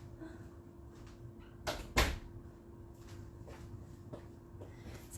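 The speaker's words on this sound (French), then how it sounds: "Je vais aller fermer la porte." A household door in a home is pushed shut, giving a brief muffled thud with a sharper knock right after, standing out once against quiet room tone and faint scattered household noises.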